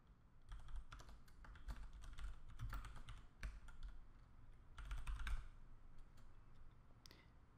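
Keys clatter on a computer keyboard as a name is typed in quick irregular runs of clicks, with short pauses between bursts, close but quiet and without any voice.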